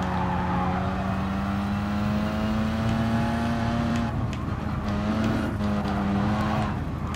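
Race cars in Gran Turismo Sport, a loud engine whine rising steadily in pitch as the car accelerates, dropping briefly at a gear change before climbing again, with tire noise underneath.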